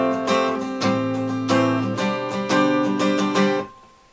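Steel-string acoustic guitar strummed through a short chord progression in a steady rhythmic pattern, bright and close, alone, ending with a final chord ringing out and fading.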